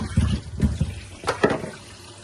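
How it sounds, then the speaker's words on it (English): Lemon and lime washed under running tap water in a kitchen, heard as a few short splashy bursts of water with fruit being rubbed and turned, fairly close and moderately loud. "first of all, I just always wash the lemon and lime"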